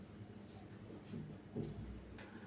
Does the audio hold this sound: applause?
no